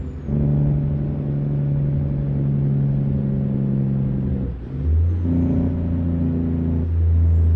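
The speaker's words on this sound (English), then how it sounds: "let's do a little engine brake from inside the cab so you guys can hear that as well" Truck engine brake running from inside the cab, a loud, steady low droning rumble with harmonic tones that dips briefly midway and then returns deeper and stronger.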